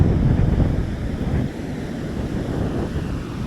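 Surf breaking on a Gold Coast beach after Cyclone Alfred, close to high tide: a continuous, loud, low roar of waves, with gusty wind buffeting the microphone throughout.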